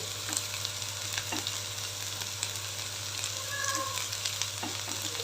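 Ginger goes into a hot pan for vegetable soup and fries with a steady sizzle, while faint scraping from stirring comes through now and then.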